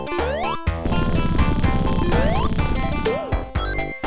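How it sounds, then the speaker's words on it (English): Switch exit sound effect from the original Sega Genesis version of Sonic the Hedgehog (1991): rising synth chirps and sweeps over a busy, clattering chiptune backdrop, fairly loud, with no voices. "In the original Genesis version, it normally sounds like this."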